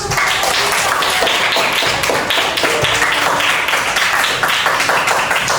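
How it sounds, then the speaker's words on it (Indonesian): Classroom of children clapping together for classmates, a dense steady patter of small hands filling the room throughout, close and even in loudness with no talk over it. "beri tepuk tangan dulu"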